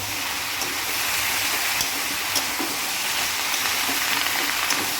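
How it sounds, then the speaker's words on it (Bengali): Vegetables with turmeric frying in a pan, a steady dense sizzle and crackle of hot oil with occasional stirring clicks, close and continuous. "এবারে ভাজা ভাজা করে নিতে হবে ঢাকা দিয়ে"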